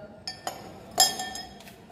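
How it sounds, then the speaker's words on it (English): Small glass beaker set down inside a larger glass beaker, giving a few light, bright clinks in close succession, the loudest near the middle, in an otherwise quiet room. "Put the small beaker inside the big beaker."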